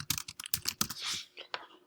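Quick run of computer keyboard keystrokes while a name is typed in, close and fairly quiet, with uneven clusters of clicks and a brief soft rustle partway through.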